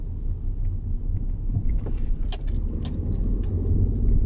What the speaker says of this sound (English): Nice and steadily over these ones.